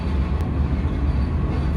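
A KA Malabar passenger train runs in Java, Indonesia, heard from on board as a steady, loud low rumble of the rolling carriage and wheels, with no talk.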